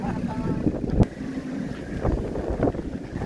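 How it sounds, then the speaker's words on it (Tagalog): Strong wind blusters across the summit of Mount Cabuyao, buffeting the microphone with a steady low roar and sharper gusts, while voices talk faintly beneath it. "Naririnig nyo lang yung hangin."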